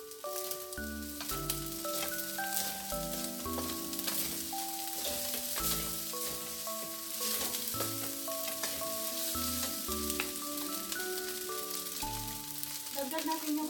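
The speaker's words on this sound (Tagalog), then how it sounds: "magdagdag tayo ng konting sesame oil. Haluin natin mabuti." Shrimp fried rice with sesame oil crackles faintly in a pan as it is stirred, a soft steady sizzle under loud melodic background music.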